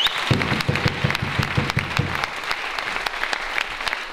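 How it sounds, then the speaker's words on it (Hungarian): Theatre audience at the Porondszínház in Békéscsaba applauding dancers at a premiere, a dense, steady wash of clapping with a brief rhythmic beat at the start, close and continuous throughout. "Egy nagy taps a táncosoknak!"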